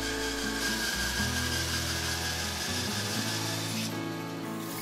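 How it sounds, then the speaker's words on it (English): A bandsaw resaws a quarter-inch slice from a three-quarter-inch wooden board, giving a steady, loud motor whine with the blade rasping continuously through the wood close by. "over at the bandsaw, I'm going to take a 3/4 inch board and resaw a 1/4 inch from it"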